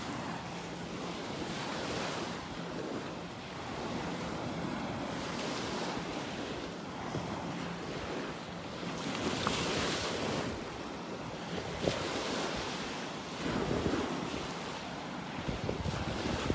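Steady ocean surf washing onto a beach in North Naples, Florida, a continuous broad roar with swells rising and falling, mixed with gusty wind noise on the microphone.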